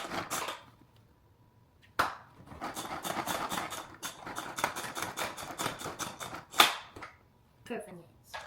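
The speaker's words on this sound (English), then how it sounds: "I'm gonna be chopping my onions." A knife chops onions on a board in bursts of quick, crisp, evenly spaced strikes separated by brief pauses, close and fairly quiet.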